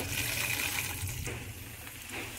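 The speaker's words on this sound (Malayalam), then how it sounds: "ഞാൻ 2 ലിറ്റർ വെള്ളം ഒഴിക്കുകയാണ്" Water is poured into a pot while making cashew apple wine, a steady gushing fill that runs continuously and fairly loud up close, with no talking.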